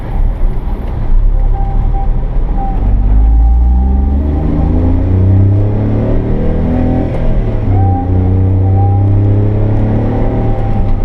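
A 1991 Honda Acty Street kei mini van, heard from inside, makes a U-turn with a loud steady engine rumble that rises and falls in pitch as it accelerates, under a constant road drone.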